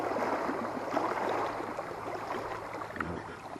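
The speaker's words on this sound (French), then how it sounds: "Le bateau vient de passer." Wake from a passing boat on a lake during a morning carp fishing session, a soft continuous wash and lapping of disturbed water, faint and steady with no voices.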